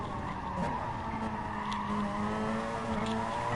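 A Porsche 919 race car in a racing video game pulls hard with a steady, sustained engine tone, a faint tyre squeal at the start, heard alone and fairly close.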